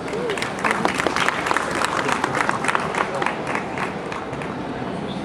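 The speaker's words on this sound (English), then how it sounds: "I think that deserves a clap." Steady, dense audience applause at the Dubai Motor Show for a Honda Asimo humanoid robot's running demonstration, loud and continuous with crowd noise throughout, no voices standing out.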